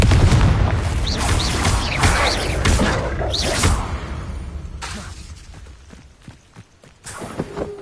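Spell blasts and fiery booms from combat against a great spider in Hogwarts Legacy, dense and loud at first, with whooshing bursts that thin out into scattered hits and a few sharp impacts near the end.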